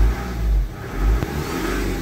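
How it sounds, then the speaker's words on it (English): Parked car engine revved in two rising and falling surges, loud and close, with a brief click between them. "It is in park, let's rev it up."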